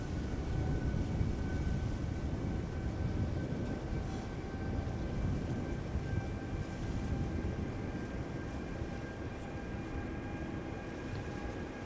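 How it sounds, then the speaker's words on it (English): A Singapore Airlines Airbus A350 jet at Amsterdam Schiphol airport gives off a steady low engine rumble with a faint high whine, constant and distant, with no talk. "Singapore Airlines A350."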